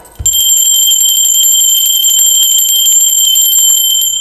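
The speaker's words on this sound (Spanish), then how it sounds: "y va la campana" A single bright metallic bell is struck once after a soft thud, then rings on loudly and evenly with a sustained shimmering tone.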